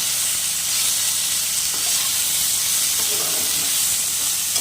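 Tomato chunks and drumstick vegetables fry in a pan, filling the clip with a dense, steady hiss of sizzling oil and faint stirring scrapes.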